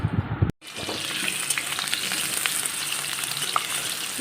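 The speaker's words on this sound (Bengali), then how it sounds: "আলুগুলো ভেজে নিচ্ছি" Potatoes frying in a pan give a loud, continuous close-up sizzle with crackling pops, starting right after a brief cut at the beginning.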